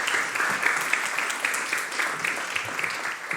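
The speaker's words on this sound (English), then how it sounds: "Warm applause for Shukla." Warm audience applause at an awards ceremony for women in science, a sustained, even clatter of many clapping hands filling the hall at moderate volume.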